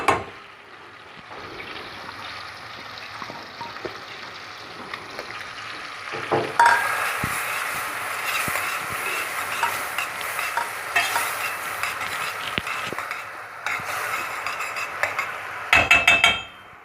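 Onions frying in butter in a pan, a steady close sizzle that swells louder partway through and keeps up a crackling hiss alongside faint stirring clatter, with no voices.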